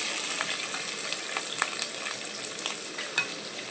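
Spices tempering in hot oil for kandi guggillu (boiled pigeon peas), with chana dal, mustard seeds, onion and green chillies, giving a steady close sizzle broken by short crackles and stirring clinks.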